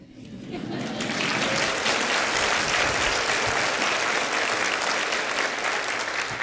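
Audience applause at a corporate sustainability milestone meeting, a dense, steady wash of many hands clapping that swells in after a quiet start and holds loud and continuous throughout.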